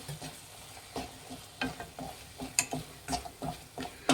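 Coconut and jaggery filling being stirred in a pan for festive holige, with scattered soft scraping and sticky stirring strokes in an irregular rhythm, close and fairly quiet with no talk.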